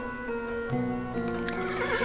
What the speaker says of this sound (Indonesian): terlihat Ki Sandikala memberi tanda untuk kembali memacu kuda-kuda mereka.